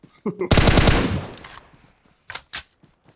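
PUBG Mobile gunfire: a sharp rapid burst of shots rings out and decays, followed after a pause by two separate short single shots.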